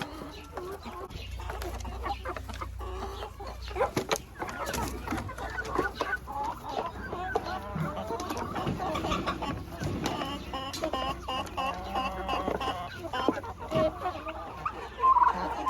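Chickens, roosters and turkeys in a henhouse cluck and gobble steadily together, up close and fairly quiet, with scattered rustling and pecking among the flock.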